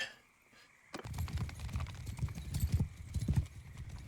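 Horses gallop in Bannerlord, a game set in a Lord of the Rings–themed world, with rapid, overlapping hoofbeats thudding close by and a brief whinny after a quiet opening.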